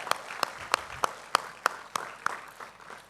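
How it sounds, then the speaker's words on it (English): Audience applause at an event welcoming a speaker, with distinct sharp claps landing in a steady, evenly spaced rhythm about three per second over a softer background of scattered clapping. "I request you to keep the claps going"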